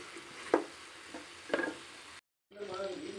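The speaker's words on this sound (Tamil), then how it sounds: "அதை இப்போ நாம் போட போகிறோம். இப்போ போட்டு நல்லா பெரட்டி விடுவோம்" Chicken liver with onion, chilli and tomato is stirred in a pan, with two distinct scraping strokes over a quiet sizzle, a brief silent gap, then a steadier sizzle resuming close by.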